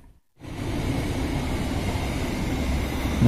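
Train K3061 at Kosambi station gives off a steady, dense rumble after a brief quiet moment, continuous and fairly loud with no talk.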